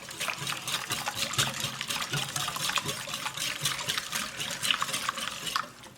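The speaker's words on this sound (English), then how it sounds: "Whisk that up." A whisk beats a liquid chocolate bar mixture in a bowl, giving a steady run of quick wet splashy strokes with light clinks of utensil on the bowl throughout.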